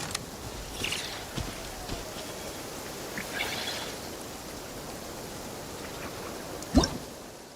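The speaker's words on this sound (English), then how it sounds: "raining again." Rain falling in Genshin Impact, a steady soft hiss with scattered patters and a sharp tap near the end, with no talk.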